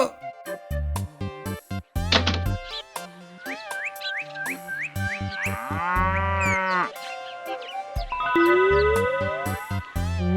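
A cow moos loudly near a bullock cart in a cartoon scene, with long, drawn-out lowing calls repeating across the clip.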